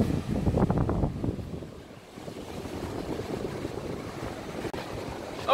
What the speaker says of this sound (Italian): Ci sono le onde più alte che abbia mai visto, Cefalo.